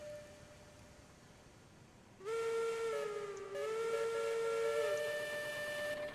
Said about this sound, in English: I hear whistles all over the place